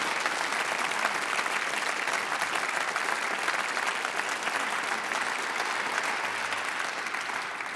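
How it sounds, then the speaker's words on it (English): A studio audience at a radio quiz show gives a steady, dense round of applause, loud and close, sustained throughout with no voices over it. "we must, of course, show our appreciation with this bone-shaking round of applause"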